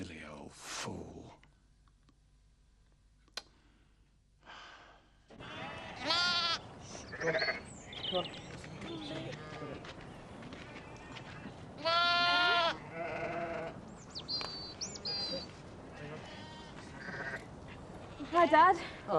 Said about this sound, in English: Docking sheep's tails.